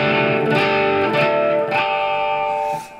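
Guitar in open DADGAD modal tuning rings out a short riff with effects and slight distortion, chords struck about three times and left to sustain before fading.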